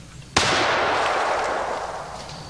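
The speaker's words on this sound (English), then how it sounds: "the shotgun is faster than any subgun" One loud shotgun blast goes off after a short quiet moment, a sharp crack followed by a long echoing tail that fades over about two seconds.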